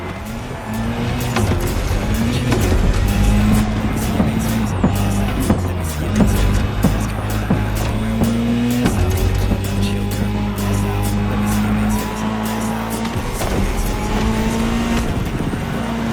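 Rally cars, including the Ford Puma Hybrid Rally 1 electrified rally car, race in the game The Crew Motorfest, engines droning loud and steady with rising and falling revs, tire noise and rattling impacts throughout.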